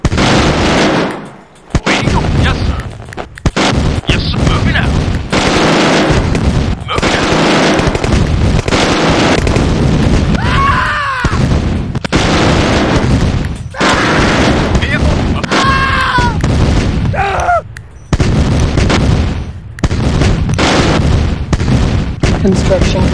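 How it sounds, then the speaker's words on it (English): Heavy gunfire and explosions from a Command & Conquer Tiberian Dawn battle with the GDI base under attack, continuous loud volleys of shots and booms for most of the stretch, with brief lulls and voiced unit responses mixed in. "Our base is under attack."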